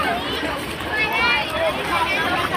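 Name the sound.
crowd at Panchmukhi Mahadev temple on Mahashivratri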